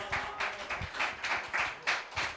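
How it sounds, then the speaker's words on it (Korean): An audience at a youth Sunday church service gives brief, moderate applause with irregular clapping. It is heard from a middle distance with no speech over it. "전달할 때 박수 좀 쳐주세요"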